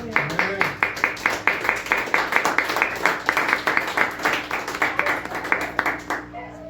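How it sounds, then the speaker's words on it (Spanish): A church congregation claps rhythmically in a steady beat, many hands together in unison, continuing for several seconds before stopping abruptly. "Y una ofrenda de palmas al Señor"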